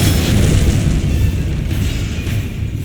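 A Confringo blasting spell exploding in Hogwarts Legacy, a loud rumbling boom with sustained low-end roar that slowly tapers off.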